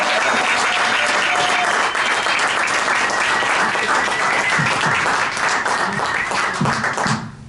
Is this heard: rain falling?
no